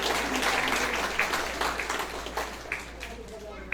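Guests applaud at a Nepali wedding ceremony with brisk clapping from a gathered crowd that fades gradually, over a steady low hum.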